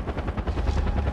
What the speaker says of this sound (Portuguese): Vai complicar o negócio aí esse helicóptero